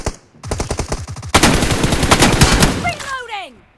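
Gunfire in PUBG: a rapid string of close, loud shots, then a denser, sustained automatic burst that fades into a falling whistle-like tail, with a voice faintly underneath.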